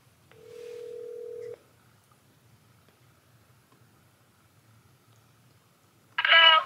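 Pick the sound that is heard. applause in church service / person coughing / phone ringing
phone ringing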